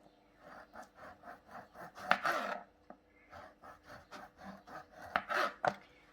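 A knife slices through crisp, sugar-free date and dry fruit rolls on a board in quick, even strokes, a steady series of close, distinct cuts with no talking.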